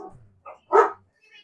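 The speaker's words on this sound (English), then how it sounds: "and we have barking" Dogs on a homestead farm bark: a single loud, close bark stands out, with softer yips before and after it.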